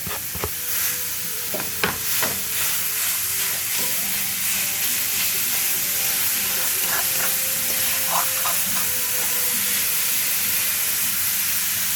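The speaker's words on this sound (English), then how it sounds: "I'm gonna go in and fry it down and make sure I get all the extra oil out of the beef." Steady sizzling and hissing of ground beef frying in a pan, with occasional scraping and clinks of a utensil stirring.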